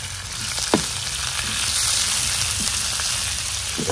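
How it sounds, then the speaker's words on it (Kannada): Coriander leaves sauté lightly in oil in a pan for avarekalu chutney. A continuous, loud sizzle is broken by a few sharp clinks and scrapes of a utensil stirring, and no one speaks. "ಕೊತ್ತಂಬರಿ ಸೊಪ್ಪನ್ನು ಕೂಡ ಲೈಟಾಗಿ ಬಾಡಿಸ್ಕೊಳ್ಬೇಕು"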